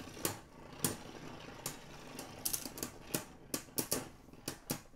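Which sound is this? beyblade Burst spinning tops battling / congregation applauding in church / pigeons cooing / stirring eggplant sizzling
beyblade Burst spinning tops battling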